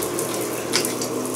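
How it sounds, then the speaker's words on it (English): Steady water rushing from a Moen shower faucet that won't turn off, a continuous broadband hiss with no pauses, fairly close and loud. "Shower won't turn off."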